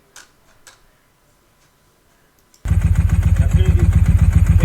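A Ducati 748 motorcycle engine fires up after a few quiet clicks and settles into a loud, close, steadily pulsing idle.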